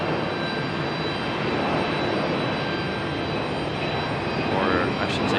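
A Boeing 737 jet airliner departs Raleigh-Durham International, its engines giving a continuous, even roar at moderate distance.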